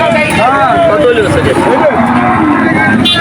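Emaciated cattle at a cattle market moo loudly and drawn-out, several overlapping calls, over a busy background of crowd chatter and people talking.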